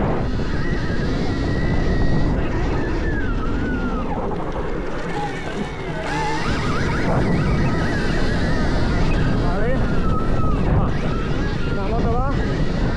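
A Stark Varg electric motocross motorcycle is ridden hard, giving a continuous loud whine with rising and falling pitch sweeps under wind buffeting, while someone talks excitedly over it.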